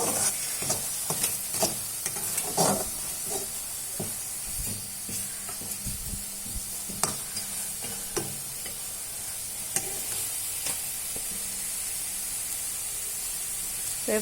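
Food fries in a hot pan with a constant hissing sizzle while a spoon stirs and scrapes through it, making irregular close knocks and scrapes over about fourteen seconds.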